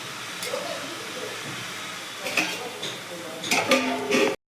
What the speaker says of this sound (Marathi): चला थोडं झाकून ठेवूया.